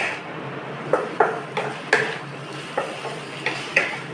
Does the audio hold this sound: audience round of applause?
no